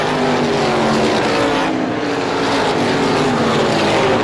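Continuous loud engine roar of race cars at Star Speedway during a 350 Super feature race, a steady broadband drone with shifting pitch as vehicles pass, with no voices.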